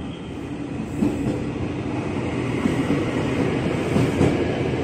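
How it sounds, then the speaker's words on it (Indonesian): A Tokyo Metro 6000 series ten-car electric commuter train rumbles steadily alongside a platform at Manggarai station, with a continuous low roar, rattling wheels and a faint high whine. "segera masuk komuter lain tujuan stasiun Bogor sepertinya ini Tokyo Metro seri 6000"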